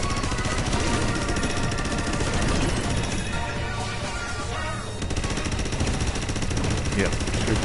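Rapid, dense gunfire blasts at a UFO in the VR game Astro Bot, a continuous loud clatter of shots over game sounds and music that fills the whole stretch.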